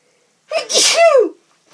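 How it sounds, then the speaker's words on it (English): A single loud sneeze bursts out abruptly, a sharp intake followed by an explosive release that fades quickly into silence. "And I think I'm going to sneeze."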